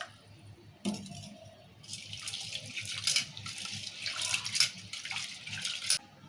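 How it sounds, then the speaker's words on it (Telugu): Running water splashes and rinses toor dal in a bowl in a home kitchen, a steady close trickle and slosh with rising and falling bursts after a sharp knock near the start. "ఈ 2 మాటలు కడుక్కోవాలి మంచిగా"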